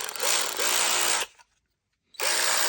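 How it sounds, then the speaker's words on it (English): A half-inch electric power wrench whirs loudly in two bursts, running about a second and a quarter, cutting to silence, then starting again. "this is a 1/2" electric power wrench"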